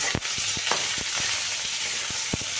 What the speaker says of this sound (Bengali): তিনটেই একসাথে ভেজে নেব ভাজা ভাজা করে নিলে বেশি ভালো লাগবে